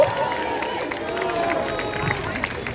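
Protest crowd at a No Police in Schools rally in St Peters Square, Manchester, cheering and applauding steadily with mixed voices, a dense sustained roar of claps and shouts throughout.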